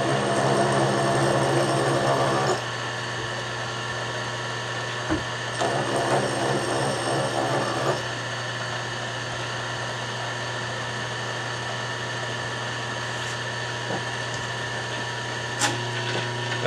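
A Nichols horizontal milling machine cuts a slot with a steady motor hum and tonal whine, as stretches of grinding cutter noise rise and fade between quieter running, with a couple of sharp clicks and no speech.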